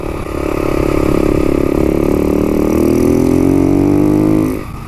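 A motorcycle on a new Shinko 520 rear tire accelerates hard, its loud, close engine note climbing steadily in pitch before abruptly dropping off at the end.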